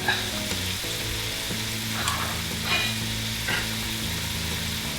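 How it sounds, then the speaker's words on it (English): Clams hitting a hot pan, an even, steady sizzle and crackle up close with a few louder spits and pops, no one speaking. "Now we're gonna add our clams,"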